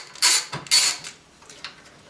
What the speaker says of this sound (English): I will unscrew the motherboard from its standoffs